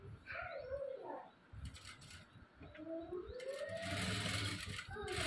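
Sewing machine stitching a joint seam on blouse cloth, running in short mechanical bursts that grow louder and longer toward the end, with birds cooing, a dog barking faintly and some voice in the background.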